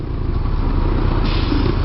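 Motorcycle engine in Hanoi traffic, throttle opened a little and held, giving a steady near drone that rises slightly toward the end, with no talk over it.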